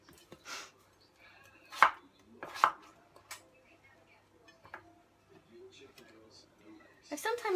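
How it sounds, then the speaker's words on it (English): Kitchen knife cubing squash into bite-sized pieces on a chopping board for a coconut Thai curry, a few sharp close chops spread across the stretch with a quick flurry of cuts at the end. "I'm going to cube it into bite-sized pieces"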